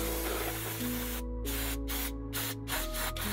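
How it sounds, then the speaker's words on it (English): Short hissing spray bursts are aimed at the rear brake of a BMW M4 during a two-piece GiroDisc rotor install, coming close and loud in several quick squirts over a steady low hum. "We could actually go ahead and spray this down real quick."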